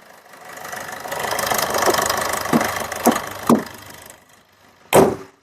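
Engine of a 2015 Maruti Swift Dzire VDI diesel car running close by with a steady knocking diesel rattle, broken by a few sharp clicks and thumps.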